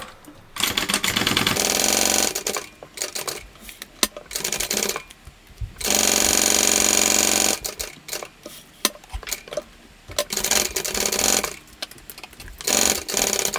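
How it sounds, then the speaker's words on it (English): Sewing machine stitching the sides of a small tote bag in several bursts of fast, rattling needle clatter, each lasting one to two seconds and separated by short pauses and soft handling noises, close up and fairly loud. "We're sewing this with the seam allowance given in the pattern."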